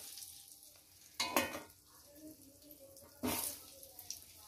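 Potatoes going into a pan of spiced chicken for a country-style katki curry, two loud sizzling bursts as pieces hit hot oil, with steady frying hiss and stirring between them and a little background talk.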